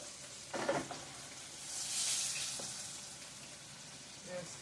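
Pieces of crispy fish sizzle in hot oil in a pan, a steady close frying hiss that swells midway, with a few clinks and shuffles as the pieces are handled.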